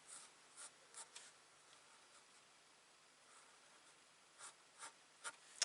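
Quiet scratchy strokes of an indelible ink pen on watercolour paper, a few short separate scrapes with pauses between them, close and soft over faint background hiss.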